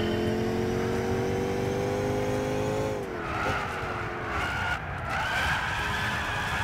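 Race car in Gran Turismo 6 skidding on the handbrake, a loud sustained tire squeal over engine drone that drops in pitch midway, then tapers and squeals again, with no talk.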